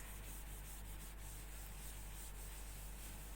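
Chalk writing rubbed off a classroom board during an accountancy lesson makes a steady, quiet scrubbing hiss that runs without a break and sounds close.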